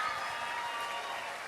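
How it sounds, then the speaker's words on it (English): A large crowd at the Rose Queen coronation and Rose Court presentation applauds Rose Princess Julie, a loud, dense, sustained wash of clapping with no break. "Give it up for Julie."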